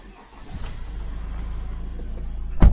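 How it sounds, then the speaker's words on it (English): A quiet car engine with a knocking fault idles at low rumble, then a sharp loud burst near the end, like the engine turning over and catching. "if we start the car up"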